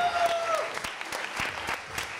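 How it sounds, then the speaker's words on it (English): An audience applauds director Ajay Chopra at a Yog Foundation event, a steady moderate crowd clapping with a few sharper claps standing out, and a voice audible briefly at the start. "Give him a round of applause."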